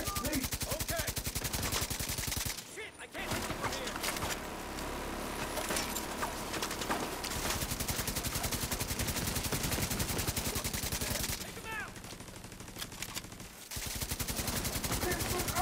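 Rapid bursts of gunfire from The Division 2 crackle almost without pause over a loud, dense mix of game sounds, dropping out briefly twice before the shooting resumes.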